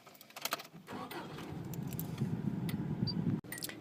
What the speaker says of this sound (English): To start off the car, you're going to make sure that your foot is pushed in the clutch all the way, and then turn the ignition.